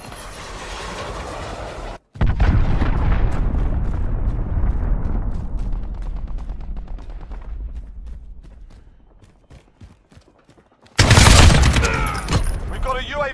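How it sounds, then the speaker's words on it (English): A cruise missile strike in Call of Duty: Modern Warfare lands as a loud, deep, rumbling blast that rolls on for several seconds with crackling debris, slowly fading before a new burst of game noise. "Cruise missile away."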